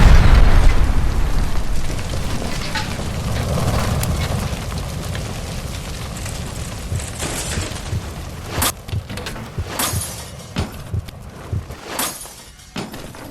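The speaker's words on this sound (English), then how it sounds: "Shoot the gas line, Cole, we're out of here!" Gas line explosion in L.A. Noire Remastered, a heavy booming roar at the start that rumbles and slowly dies away, followed by scattered crackles and sharp pops of debris and fire.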